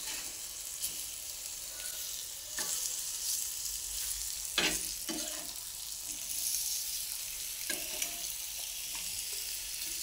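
Masala-coated fish pieces fry gently in a pan over a low gas flame, giving a quiet, continuous sizzle broken by a few soft scrapes as the pieces are turned, with no speech.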